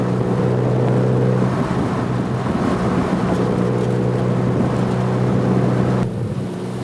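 An MEV kit car drives along with a steady, droning engine hum and road rumble, loud and sustained from the cabin, easing slightly near the end.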